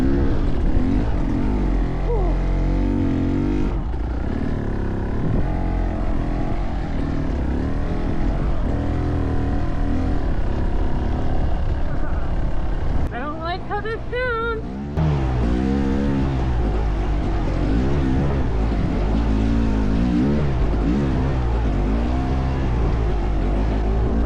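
A 2023 Beta Xtrainer 300 dirt bike engine struggles and nearly dies, giving a loud, continuous droning roar that wavers in pitch and briefly dips before picking back up.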